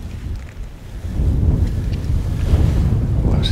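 Strong wind buffeting the microphone at a fishing lake during a match, a loud low rumbling roar that swells and stays steady throughout, with no talk.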